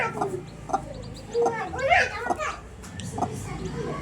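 Golden-colored chicken chicks cheeping in short bright chirps, close by, mixed with clucking and children's voices talking nearby.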